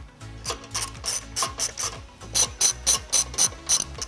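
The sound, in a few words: ratchet with 18mm socket removing bumper beam nuts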